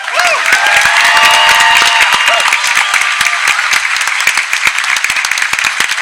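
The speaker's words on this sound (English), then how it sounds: "Huge round of applause for Kahil" Loud, dense applause with cheering from a large convention crowd at PAX Prime 2013, sustained for several seconds with whoops rising over the clapping.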